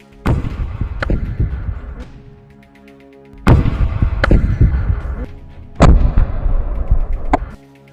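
A rocket fired at a distant IDF tank in a Gaza battle, heard as three loud booming blasts spaced a few seconds apart, each with a long rumbling tail and no voices.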